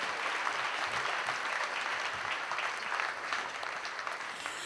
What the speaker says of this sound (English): Another round of applause for all of our honorees tonight.